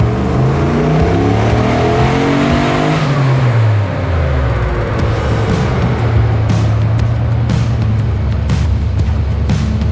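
A tuned car engine revs loudly and close, its pitch climbing and falling through several strong rev sweeps before settling into a steady high drone, with no talking over it.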